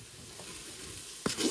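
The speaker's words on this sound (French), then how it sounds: "J'ajoute l'équivalent d'une grosse cuillère de beurre." Butter melting in a pot with raw rice and salt gives a faint, steady hiss, then a sharp clink near the end and a louder sizzle swelling up.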